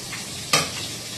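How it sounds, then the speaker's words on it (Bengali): Eggplant fries in a pan with a quiet continuous sizzle, broken by one brief louder scrape of stirring midway. "বেগুনটা ততক্ষণ ভাজা হোক।"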